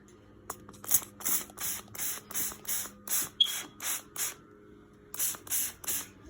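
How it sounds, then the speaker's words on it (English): Repeated short hissing bursts of an aerosol balloon shine spray can, about a dozen quick sprays in a steady rhythm with a brief pause near the end. "So I'm going to take it and I'm going to spray it."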